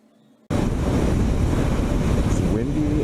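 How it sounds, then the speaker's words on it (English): Loud wind buffeting a microphone outdoors, starting abruptly after a brief quiet moment and then roaring steadily in low rumbling gusts, with no speech over it, beside a 2015 Kawasaki KLR motorcycle. "It's windy as hell."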